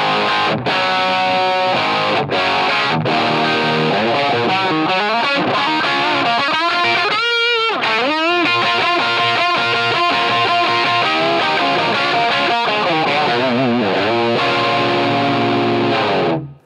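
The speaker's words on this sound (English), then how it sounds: "This is the unaffected sound of that Marshall Origin" Marshall Origin amp with no pedals engaged, slightly breaking up as an electric guitar plays a continuous line of notes and chords, loud and alone.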